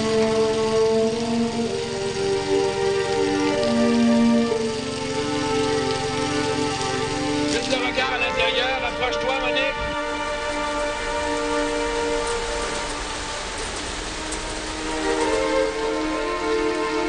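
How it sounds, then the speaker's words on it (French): Artificial rain falls on a film set during a dramatic scene, a continuous patter and wash of water on surfaces mixed with a droning mechanical hum, steady and moderately loud. "On demande la pluie."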